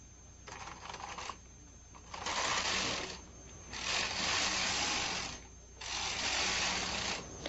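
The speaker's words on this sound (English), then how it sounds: "Rethread the carriage and knit regularly until you have the number of rows you need for" A knitting machine carriage is pushed back and forth across the needle bed, knitting rows of ribbing in three loud, raspy sliding passes of about two seconds each, with quieter pauses between them.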